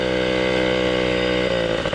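A Yamaha PW 50 mini motorcycle's small engine runs steadily and close by, a buzzing, harmonic drone that holds pitch, then shifts slightly as the throttle changes near the end.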